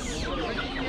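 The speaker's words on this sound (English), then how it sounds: "Oh wow, the chickens and the" Chickens cluck close by in a short, busy burst at a market poultry section in Leiria, Portugal, with crowd chatter mixed underneath.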